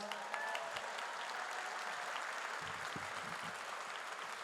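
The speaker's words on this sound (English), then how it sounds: "Let's give her a big round of applause." A crowd at an Armenian Genocide commemoration event gives a steady round of applause, faint and distant, holding evenly throughout.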